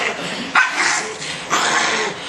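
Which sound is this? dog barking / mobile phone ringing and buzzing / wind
dog barking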